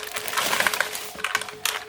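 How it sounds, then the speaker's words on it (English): Crinkly plastic wrapping is pulled off a BlitzWolf BW-KB1 keyboard during an unboxing, a close, steady rustling with sharper crackles throughout and no talk. "It comes in a plastic, so I'll just remove that."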